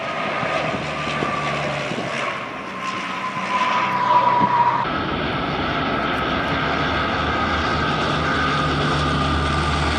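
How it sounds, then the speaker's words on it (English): A NASA Super Guppy, a bulbous cargo plane, drones steadily with loud engine roar and propeller hum, briefly swelling as it passes before settling into a constant rumble, with no voices. "NASA has their own version of the plane called the Super Guppy"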